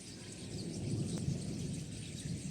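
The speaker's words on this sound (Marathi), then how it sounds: "गडगड करत आहे वीज बी" A low, continuous rumble of thunder rolls through a hazy outdoor scene during unseasonal summer rain, faint and distant under steady background noise, with no talking.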